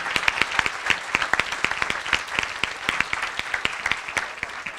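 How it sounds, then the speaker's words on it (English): A conference audience applauds a discussion panel with steady, dense clapping and a few sharper individual claps standing out, sustained throughout at moderate distance. "Let's give the panel a round of applause"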